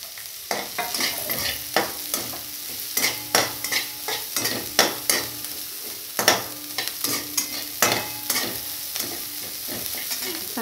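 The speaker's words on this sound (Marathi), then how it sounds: "आता यात मी हिरवे मिरच टाकते।" Green chillies frying in hot oil while a spoon stirs them for spicy vermicelli, with a steady sizzle broken by repeated sharp scraping strokes, close and clear, and no talking.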